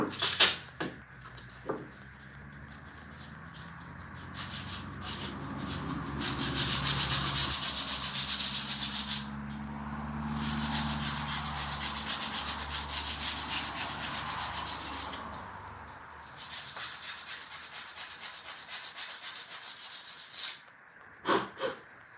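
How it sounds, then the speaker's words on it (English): Folded sandpaper rubs back and forth inside dado grooves of a carved wooden gnome house roof, making a steady, close scratchy hiss in long strokes with short pauses and a few light knocks near the end. "So super easy to just take a piece of sandpaper, fold it in half, and you can get inside of those dado grooves."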